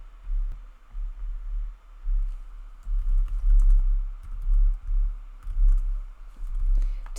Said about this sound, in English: you just want to go through each of these fields and just type in all of the product information